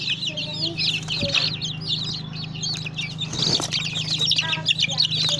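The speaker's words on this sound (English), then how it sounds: "They are local chickens." Local Nigerian chickens clucking continuously on a farm, a busy flock of overlapping calls close by over a steady low hum.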